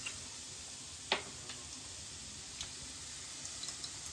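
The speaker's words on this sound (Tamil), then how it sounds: "அப்பதான் வெங்காயம் வந்து நல்லா சூப்பரா கோல்டன் ப்ரௌனா வதங்கணும் நல்லா" Onions sautéing in a pan, a faint steady sizzle broken by a few sharp ticks and pops, with no talking.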